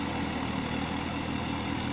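A Massey Ferguson 7250 DI diesel tractor engine runs steadily, a close, even low rumble with no talk over it.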